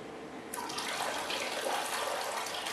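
Water drains out of a 10 cm plant container of potting substrate: a steady close rush of running water begins about half a second in and continues evenly to the end, with no talk.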